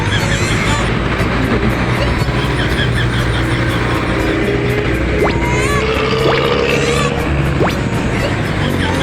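Heavy street traffic with engines idling and motorcycles passing close by a bike lane, a loud continuous roar with a few brief horn-like tones, while someone speaks over it.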